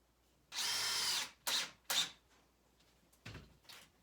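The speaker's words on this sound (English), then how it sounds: "I'm actually going to put 2 screws in the bottom of this." A power drill drives two screws into the base of a snowman cut from scrap 2x4 wood. It gives one long whirring burst, then two short bursts, and a couple of faint clicks follow. The sound is close and loud, with no talk.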